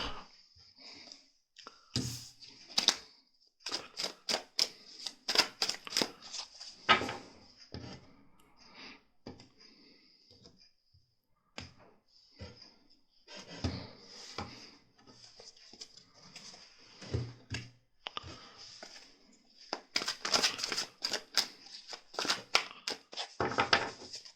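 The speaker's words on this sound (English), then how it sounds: "The cards are well shuffled, so just on camera I'm going to shuffle it once more" A deck of tarot cards being shuffled by hand: quiet bursts of papery flicks and snaps come in uneven runs, separated by short pauses.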